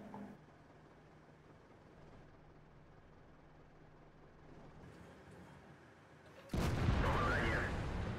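Tank cannon fires in a tank video game, one sudden loud blast with a sustained roar after it, following a quieter stretch of low rumbling engine and battle noise.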